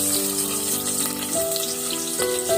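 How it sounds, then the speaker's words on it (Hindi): Onion frying in hot mustard oil for a mixed sprouts curry gives a steady, close, broad sizzle that runs without a break, with a soft tonal hum underneath. "तो तेल अपना गर्म हो चुका है, तो उसमें हम अभी डालेंगे अपना प्याज"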